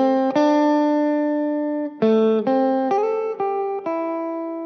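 Electric guitar playing the opening notes of an instrumental, clean sustained picked notes ringing out one after another with a steady, deliberate rhythm, loud and close, heavy on tremolo-style shimmer, alone without talk.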